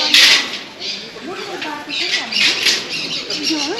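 Wings flap in a netted aviary full of birds, with bursts of fluttering and scattered chirps close by while someone talks over them.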